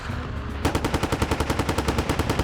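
Submachine guns and light machine guns fire in sustained, evenly spaced rapid bursts, loud and close, launching an assault in a 1941 battle at Kiestinki.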